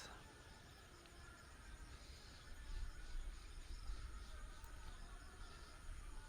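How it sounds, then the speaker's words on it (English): Crickets chirp in a tropical mountain evening, a faint, continuous high trilling over soft low background rumble, with no one speaking as rain approaches in the distance. "Crickets"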